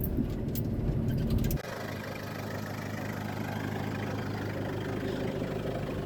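A farm vehicle's engine idles steadily at close range with a low, even drone, after a brief louder burst of mechanical noise at the start.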